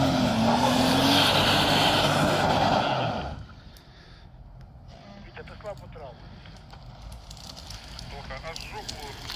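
An off-road jeep's engine roars loudly through a muddy rut for about three seconds, then drops away to a quieter background, with someone talking over it.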